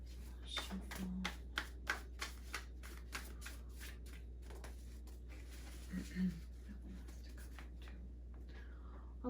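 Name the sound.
shuffling a deck of cards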